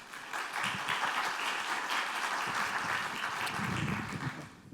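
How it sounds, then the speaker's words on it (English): Conference audience applause welcoming Mark Gelfand to the stage at a STEM summit, a full, steady round of clapping that swells quickly and holds evenly before easing off, with no talking. "So let's welcome Mark with a round of applause, please."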